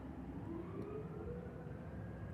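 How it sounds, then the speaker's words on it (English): An emergency vehicle siren of an unfamiliar type sweeps steadily in pitch, moderately distant and continuous over low background rumble. "I've not heard that type of siren before."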